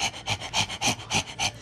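A dog panting hard after a walk, rapid rhythmic breaths in steady bursts about every quarter second, close and fairly loud with no talking.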